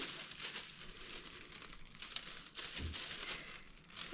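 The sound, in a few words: very thin plastic sheet being handled and crinkling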